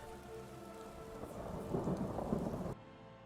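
Steady rain pours down in Skyrim with a low rumble of thunder swelling in the middle, loud and close, then the storm sound cuts off abruptly near the end.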